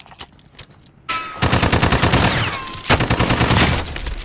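Rapid automatic gunfire from the video game Warzone, loud and close, starting after a quiet second and continuing in dense bursts with a brief gap, no talking over it.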